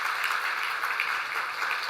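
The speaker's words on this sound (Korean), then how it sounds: "우리 박수로 먼저 축하하도록 하겠습니다" Applause from a church congregation during a Sunday service, greeting a newlywed bride and groom: steady, dense clapping from many hands that carries evenly through the moment with no voices over it.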